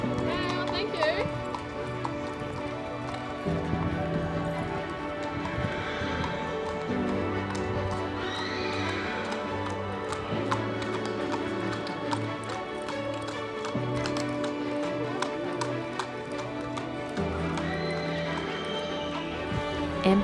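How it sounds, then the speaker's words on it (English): Wild, never-handled horses, including a palomino, move about with clip-clopping hooves and occasional whinnies under steady crowd chatter and nearby talking at an equestrian event. "These are wild horses, they've never been touched before."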